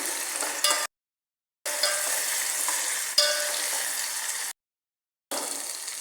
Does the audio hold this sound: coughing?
no